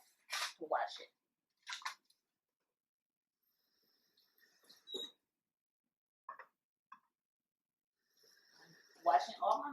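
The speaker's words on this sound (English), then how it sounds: "I'm washing all my milk top." Water runs and splashes in short bursts as a condensed milk can top is rinsed under a tap in a home kitchen, with quiet gaps and a few small drips between the louder washes.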